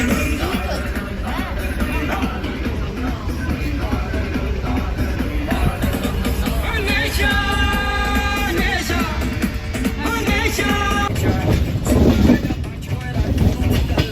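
Rumble and rattle of a moving train heard from inside a carriage, a steady loud wash of wheel and car noise with a whistle-like tone partway through and voices and chatter from passengers mixed in.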